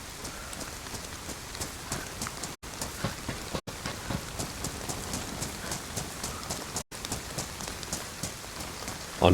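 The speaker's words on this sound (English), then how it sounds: "the audio for the rain is super laggy, or a little laggy" Steady, dense rain falls in the DayZ video game on the Livonia map, a continuous hiss of drops that cuts out briefly a few times as the audio lags.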